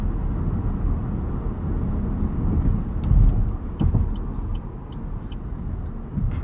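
A 2017 Chevrolet Bolt EV electric car drives fast, heard from inside the cabin as a steady, loud low road-and-wind rumble with a brief swell partway through.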